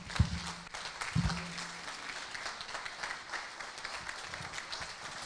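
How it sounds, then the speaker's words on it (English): Audience applause at a birthday thanksgiving lecture, a steady mid-level patter of many hands with a couple of low thumps near the start, continuing evenly throughout. "Please don't stop clapping, please."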